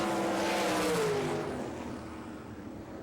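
A sprint car at a dirt-track All Star Circuit of Champions Speedweek race in Barberville, Florida, roars past near and loud, its engine pitch falling as it passes the finish line and fades.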